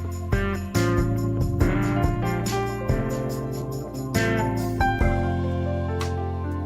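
Gospel-style music jam played on a GarageBand diatonic keyboard, rich sustained chords changing every second or so with punchy bass notes and rhythmic accents, moving at a brisk pace.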